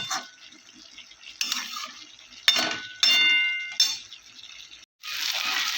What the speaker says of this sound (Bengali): এটা দিয়ে নাড়াচাড়া করে নিয়ে নাড়াচাড়া করে দিয়ে ঢাকা দিয়ে দেব